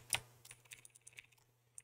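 Quiet keystrokes on a computer keyboard as a command goes into a terminal: a sharp first click followed by a quick, uneven run of lighter taps, close and alone.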